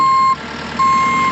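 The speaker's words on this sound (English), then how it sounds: "now he's interrupting me with his beeping" A JCB machine sounds its reversing beeper nearby, a loud steady electronic tone that cuts off briefly and resumes, over the low rumble of its idling engine.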